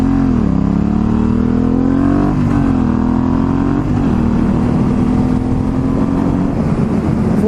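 A motorcycle engine hums loudly and steadily while riding through a turn on smooth, constant throttle, the pitch dipping slightly then holding even, close and continuous, with no talk.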